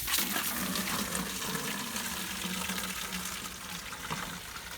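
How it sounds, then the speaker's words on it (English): Tap water runs fast into a fertilizer container, a steady gushing splash that holds constant and fairly close, with no voices. "I'm going to fill it with some water."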